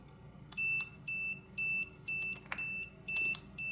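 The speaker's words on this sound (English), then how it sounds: "if it beeps like that, it means it's not hooked up properly." An automotive battery tester with its clamps not properly connected gives a loud series of about seven evenly spaced electronic beeps, with small clicks between them and no talking.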